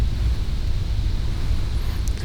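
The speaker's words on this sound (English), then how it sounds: "It's still pretty windy today" Wind buffets the microphone in a low, continuous rumble, gusting unevenly with no voices present.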